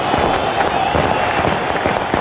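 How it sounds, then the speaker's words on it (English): Celebratory gunfire from security forces and armed militias cracks in rapid, repeated, irregular volleys, loud and sharp, over a murmuring crowd at a funeral in Ramallah. "Then came the sound of gunfire as security forces and the armed militias paid tribute"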